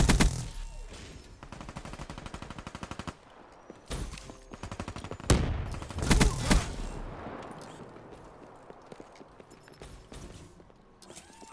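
Machine gun fire in Call of Duty: Black Ops 3 team deathmatch, long rapid bursts of rattling shots broken by short pauses, loud and close, with some distant fire and movement sounds between bursts.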